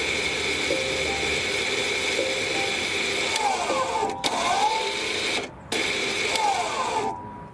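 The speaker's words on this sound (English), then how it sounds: "the motor in the back will start working" Electric parking brake motor at the rear of a 2019–2025 Volvo (XC40, V60, S90 family) in brake service mode, giving a steady mechanical whir with faint ratcheting clicks, fairly close, with two brief dropouts and no talk.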